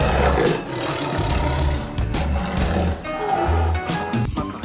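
A toy tiger gives a loud, sustained roaring growl that continues steadily, with several swelling pulses and no talking over it.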